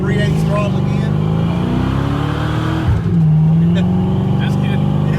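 Foxbody car engine revving hard on the throttle, a loud close roar that rises and holds, dips briefly, then surges again, with a voice speaking over part of it.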